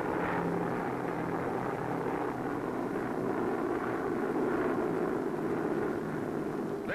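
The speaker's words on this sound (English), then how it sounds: "Again, the bombers." Bomber aircraft flying over during the WWII invasion, a steady, dense engine drone that holds at an even loudness throughout with no voices.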